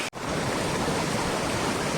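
Waterfall near Vellore, Tamil Nadu, water dropping in three parts, a dense steady roar of falling water close by, continuous and loud after a brief break at the start.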